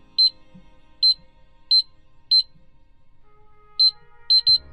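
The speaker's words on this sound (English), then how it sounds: "Two beeps are heard and display shows in, which it did." A fingerprint safe's keypad gives several short, crisp high beeps, some single and some in quick pairs, spaced apart against near silence, with a faint low clunk near the end.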